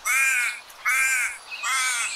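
A raven gives three harsh, rasping caws in an even rhythm, each about half a second long, loud and close with nothing else around.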